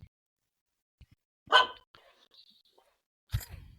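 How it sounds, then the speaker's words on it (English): A dog barks twice, sharp and fairly close, with small clicks and a faint whine between the barks in an otherwise quiet room. "So I'm getting barked at."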